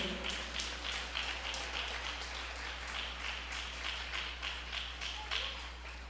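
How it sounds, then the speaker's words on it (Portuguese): A church congregation applauds during a Bible study, a soft, continuous patter of many hands clapping at a distance, with a low steady hum beneath. "Quer aplaudir a Jesus? Pode aplaudir."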